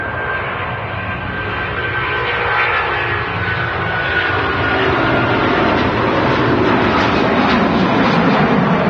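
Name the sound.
Boeing 737 MAX 8 jet aircraft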